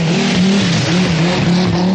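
A rally car races past at speed during the 1985 British Rally, a loud close engine roar with a wavering pitch as it revs and shifts, no voices over it.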